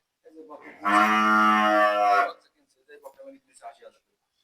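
A Holstein Friesian heifer on a farm lets out one long, loud, close moo lasting over a second, followed by brief quieter voices talking nearby.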